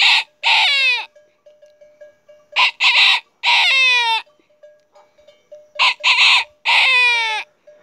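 A man imitates a rooster crowing, giving three loud, rising-then-falling crow calls separated by short pauses, each starting with clipped syllables before the long drawn-out cry.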